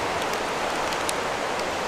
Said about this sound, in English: And the hail's back.